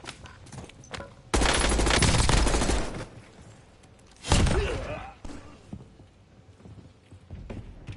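Video game gunfire comes in two loud, dense bursts of rapid shots separated by quieter stretches, with game voice callouts mixed in.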